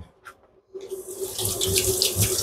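Tap water runs steadily into a sink for washing while cooking Filipino papaitan with tripe, intestine and heart, starting after a short quiet moment and continuing as a close, full broadband rush with no talk.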